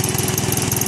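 A 1967 Case 155 tractor engine runs steadily close by, a continuous chugging idle with a fast, even pulse throughout and no talking.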